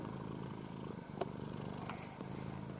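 A cat purrs softly and steadily during cuddles in a quiet room, a faint, continuous low rumble with a few small rustles over it.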